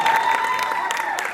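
Applause from an audience at a Colors TV show launch event, a brief burst of many hands clapping, loud and close, with a voice briefly audible over it.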